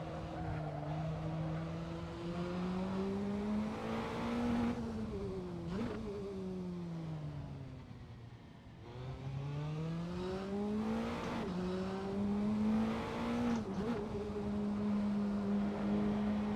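Praga R1 race car engine in the Assetto Corsa racing game at Vallelunga classic circuit, a loud continuous near drone that rises and falls in pitch through repeated upshifts and downshifts, with no talk over it.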